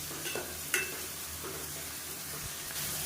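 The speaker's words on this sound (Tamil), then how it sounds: "இப்போ வெங்காயம் ஓரளவுக்கு நல்லா வதங்கி நல்ல ஒரு ஃப்ளேவர் வருது" Onions sautéing in a pan for Tamil-style fish curry, a steady soft sizzle with occasional stirring scrapes and a brief utensil clink, close and alone.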